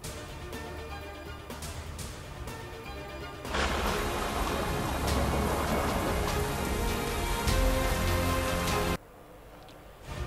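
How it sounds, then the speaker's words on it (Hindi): Monsoon rain falling over Karachi, a steady close hiss of heavy rainfall on surfaces that swells louder partway through, then drops to a quieter patter near the end, with no voices. "शहर में बादल बरस गए।"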